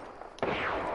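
Apex Legends gunfire erupts after a faint lead-in, a sharp burst that carries into a sustained roar of automatic shots, loud and close, with no talking.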